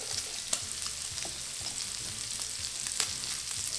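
Onions fry in a skillet, producing a bright, steady sizzling hiss with occasional sharp crackles and light stirring taps, close and continuous without talk.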